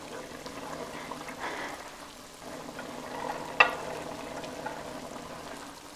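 Chopped carrots and potatoes drop into a hot pan for Filipino chili picadillo, setting off a steady low sizzle with a brief sharp clatter in the middle, then continuing to fry evenly.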